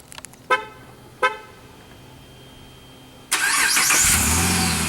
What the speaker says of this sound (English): This vehicle does come equipped with remote start, as you can see, via the standard Jeep Chrysler Dodge key.